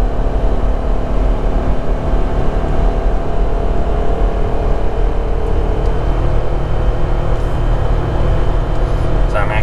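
A 2020 Jeep Gladiator Sport with the Max Tow package pulls a travel trailer, its engine and road noise forming a loud, steady low drone that fills the whole stretch without a break.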